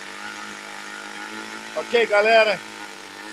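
A small ASP 25 model engine runs steadily during its break-in, a continuous buzzing drone throughout, with someone briefly speaking over it partway through.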